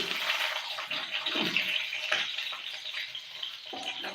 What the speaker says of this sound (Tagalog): Nagprito ako ng talong.